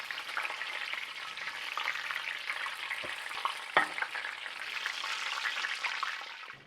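Battered zucchini spring rolls frying in hot oil, a continuous crackling sizzle throughout with a couple of brief clinks, no talk.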